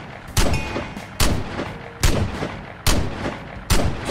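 Heavy gunfire in the video game Vigor, with five loud, booming single shots spaced roughly evenly about a second apart, each followed by a short rumbling tail.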